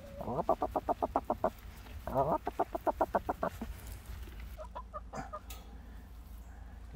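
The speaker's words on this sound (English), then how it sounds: "Now, let's go feed the chickens." Chickens cluck in quick rhythmic bursts, two clear runs of sharp calls close by, then softer scattered clucks over a faint background murmur.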